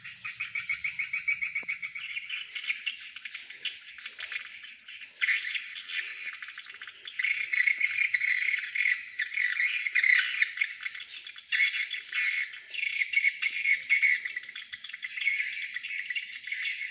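Young swiftlets chirp and twitter densely inside an enclosed swiftlet nesting building, a continuous high-pitched chorus of rapid overlapping calls that stays loud and close throughout, with no talking.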